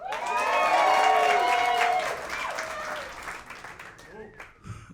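A live podcast audience cheers and whoops on cue, a loud burst of crowd shouting and clapping that peaks early and then fades into scattered applause and murmuring.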